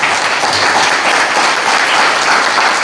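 A crowd at a political event for lieutenant governor candidates applauds steadily and loudly, a dense continuous wash of clapping with no pauses.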